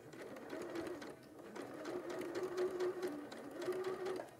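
Domestic sewing machine stitching along the edge of fabric with the presser foot at the edge, a close, steady motor whir and rapid needle clatter running in bursts with brief pauses, no talk.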